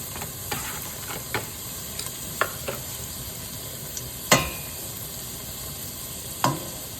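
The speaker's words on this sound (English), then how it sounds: "Now we're gonna add one large chopped onion" Chopped onion frying in melted butter in a pan, a soft continuous sizzle broken by scattered clicks and a few louder pops.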